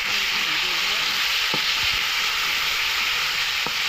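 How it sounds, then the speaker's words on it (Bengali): A dense, even sizzle of frying spices with chopped tomato fills the pan as it cooks for an egg yolk and green pea curry, steady and close, with a few faint knocks of stirring. "এখন আমরা একটা মিডিয়াম করে টমেটো কেটে দিয়ে দেবো।"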